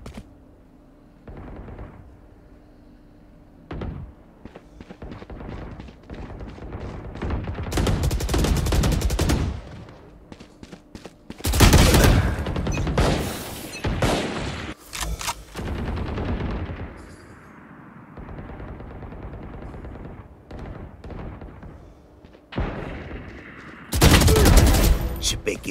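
Video game gunfire rattles in rapid bursts of automatic fire and heavier blasts, loud and repeated across the span, separated by quieter stretches with some talk.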